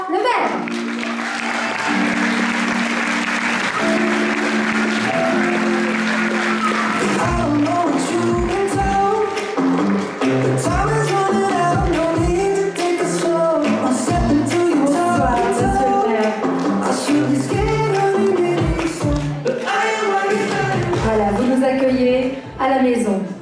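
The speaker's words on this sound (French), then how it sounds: "Merci d'applaudir Monsieur le maire de Châtillon-sur-Seine" A crowd at a Miss Côte d'Or beauty pageant applauds the mayor of Châtillon-sur-Seine as loud stage music plays, the clapping blending under pounding beats and sustained tones.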